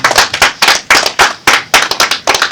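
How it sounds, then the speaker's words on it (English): Hands clap steadily at a policy roundtable session, sharp and close, with a quick even rhythm that reads as a small group's applause and no voices over it. "A round of applause, please."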